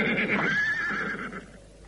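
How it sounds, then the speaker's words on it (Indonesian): A horse whinnies loudly and close by, a single rising-and-falling neigh that fades over about two seconds, with no other sounds around it. "Iya, kita ikat kuda-kuda kita di sini."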